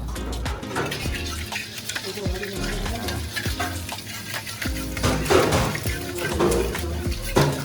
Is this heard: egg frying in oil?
yes